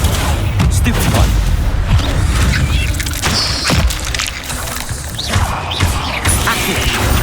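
Stupefy spell cast in Hogwarts Legacy: booming impacts and sharp cracks from spell hits, repeated through a loud, busy stretch of combat noise.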